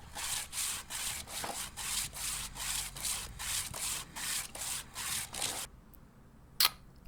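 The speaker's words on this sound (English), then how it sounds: "Alright, so I've sanded the ends now." Wood end grain sanded by hand in steady back-and-forth strokes, about a dozen evenly spaced rasping rubs close up, stopping abruptly near the end followed by one brief knock.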